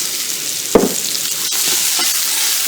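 Fajita vegetables sautéing in a non-stick pan, a loud, steady sizzle with one thud of stirring near the start and occasional light scrapes.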